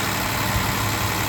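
A barn-find Mercedes engine idles steadily after its clogged idle jets were cleaned, a continuous low rumble with an even hum and no talking.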